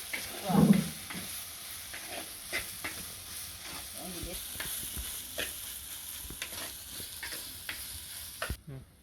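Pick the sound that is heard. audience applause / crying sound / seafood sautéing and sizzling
seafood sautéing and sizzling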